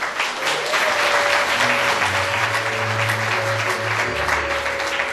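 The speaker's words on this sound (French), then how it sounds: "Très vivant, applaudissez s'il vous plaît" An audience at the CILO 8th anniversary gives sustained applause, a dense, even roar of clapping with a low tone humming underneath.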